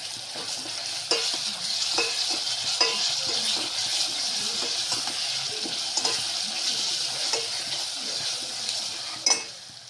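Onions fry in a pan with ginger-garlic paste for a Nagpur-style dal kanda, giving a steady sizzle broken by scraping stir strokes and occasional utensil clicks.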